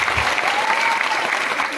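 Dense, steady applause from an audience at a Konark Gananatya jatra performance, a continuous wash of many hands clapping close by with no pauses.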